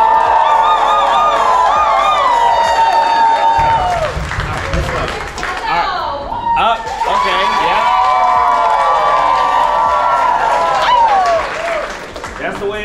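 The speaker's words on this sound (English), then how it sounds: "Y'all give the new drumline members a round of applause." A marching band at band camp applauds and cheers for its new drumline members, loud and sustained, with whoops and shouted voices over dense clapping and a brief dip midway.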